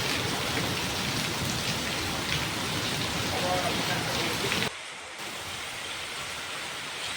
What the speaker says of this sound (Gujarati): ખાલી નેવાના ધોધ જોવી તો આપણને એમ થાય કે ઓહો વરસાદ કેવો પડી રહ્યો છે